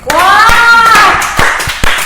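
Scattered, sharp hand claps ring out in a Korean church youth worship service, a few distinct close claps spaced irregularly while a sustained voice or tone carries over them.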